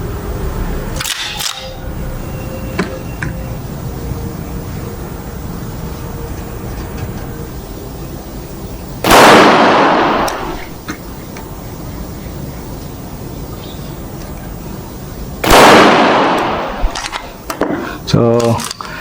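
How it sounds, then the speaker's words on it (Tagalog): A 9mm high-capacity pistol fired at an outdoor range: two sharp loud reports, roughly six seconds apart, each with a short decaying tail, over background murmur and movement noise. "Firing ulit."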